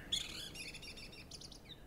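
A blackbird sings in a garden: a clear, fluting run of bright whistled phrases, fairly near and steady, over a quiet outdoor background.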